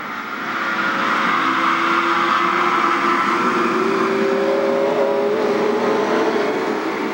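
Race cars roar around an oval track at Illiana, a loud sustained engine howl with rising pitch as cars pass close by, continuous throughout with no voices.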